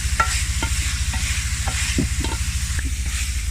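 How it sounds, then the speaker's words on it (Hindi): Carrots stir-fried in a little oil over low heat for chicken macaroni, heard as a rhythmic ladle scraping and tapping against the pan roughly every half second over a steady soft sizzle, close up with no speech. "हम भून लेते हैं। हल्की आग पे, ना ही ऑयल ज़्यादा इस्तेमाल करना है।"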